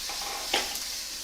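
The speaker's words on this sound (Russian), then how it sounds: "жарится на большом огне, еще раз помешаем нашу капусту" Cabbage frying on high heat gives a soft, steady sizzle with a brief stir-like scrape in the middle, faint and close in a kitchen.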